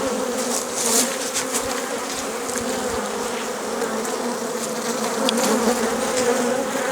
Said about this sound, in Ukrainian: Начебто із Африки. Африканська бджола.